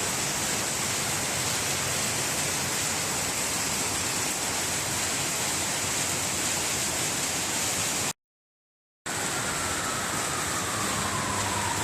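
Heavy rain pours down with gushing water in a loud, unbroken roaring wash that cuts out briefly before resuming just as strong.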